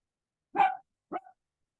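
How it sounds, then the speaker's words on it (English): A dog barks twice nearby, one fuller bark followed by a shorter one about half a second later, with silence around them. "If you hear my dog barking,"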